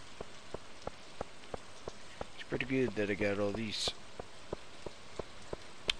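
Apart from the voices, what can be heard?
rain falling in Stardew Valley video game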